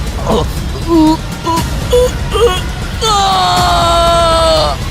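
A man lets out a strained, drawn-out scream after a few short tense vocal sounds, loud and close.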